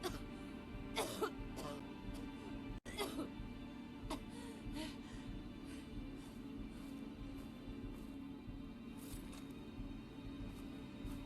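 A video game character in Fallout London gives a few short, rough coughs and throat-clearing sounds from tunnel cough, coming in bursts over a constant low background hum.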